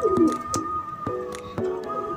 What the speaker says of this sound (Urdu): گولڈن کبوتری ہے